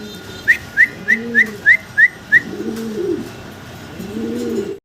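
Fancy lakha pigeons, a pair, coo in soft, low, rolling calls, three times, after a quick series of seven sharp, evenly spaced high chirps nearby.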